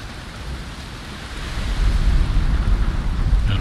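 A storm at sea in the video game Valheim, with steady rain, crashing waves and low thunder rumbling, the roar swelling louder halfway through; no one speaks.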